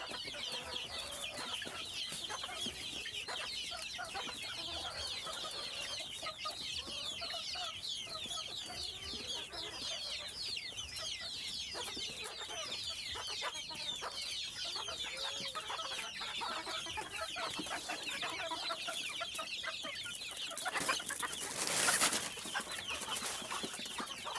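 Native deshi hens freed from their coop cluck and chatter continuously at close range, a dense overlapping flock with busy bird calls throughout and a brief louder burst near the end.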